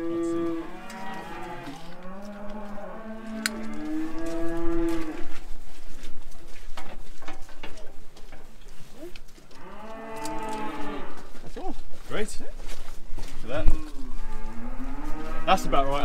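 Longhorn cattle moo repeatedly outdoors, long, deep calls rising and falling, some close and loud, others overlapping with shorter lowing and rustling in between.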